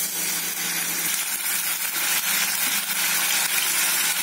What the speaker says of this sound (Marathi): इकडे तेल गरम झालेलं आहे. मी कढईमध्ये एक एक एक एक सोडते.